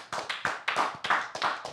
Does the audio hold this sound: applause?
yes